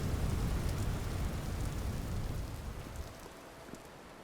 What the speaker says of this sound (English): You see the raindrops on the lake, on the little pond.